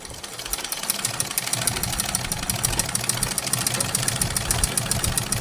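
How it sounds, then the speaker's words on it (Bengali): A sewing machine stitches fabric with a rapid, even mechanical clatter that runs steadily and close up for several seconds, with no voices. "দেখুন এখন সেলাই হচ্ছে।"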